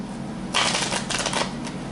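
Tarot cards are shuffled by hand in a quick burst of riffling, papery flutters lasting about a second, close and fairly loud with no voices.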